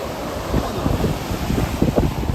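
Gusty wind buffets the microphone at a beach, with rumbling surf beneath the rushing air.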